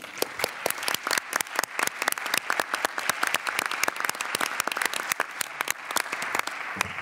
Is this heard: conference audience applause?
yes